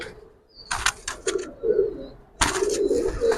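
Giribaz pigeons coo in low, soft bursts close by, with a few sharp flutters or scuffs in between and a brief quiet stretch in the middle.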